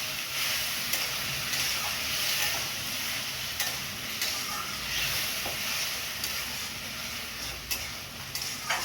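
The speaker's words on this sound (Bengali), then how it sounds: "আমি আলু পেঁপেটা তুলে নিইনি, ওর মধ্যে মশলা দিয়েই কষিয়ে নিচ্ছি" Papaya and potato sautéed with spices in a pan, giving a continuous close sizzle and hiss with occasional faint scrapes of stirring throughout.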